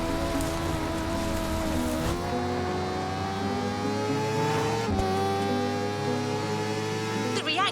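A Toyota Supra drifting around a lighthouse course in the video game Drift Experience, its engine droning at high revs with pitch dips at each shift, sustained and loud.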